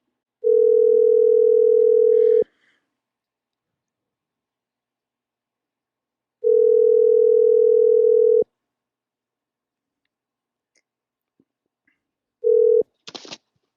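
Telephone ringback tone while calling a Facebook Marketplace buyer, two long steady beeps separated by a silent pause, then a short third beep cut off as the line connects with a faint click.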